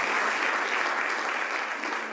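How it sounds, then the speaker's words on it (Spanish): Audience applause at a 10th-anniversary jota concert in Zaragoza, a dense, steady wash of clapping from a large crowd that fades slightly toward the end, with no voices over it. "un aplauso para ellos"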